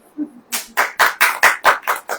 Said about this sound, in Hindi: अब ताली बजाओ।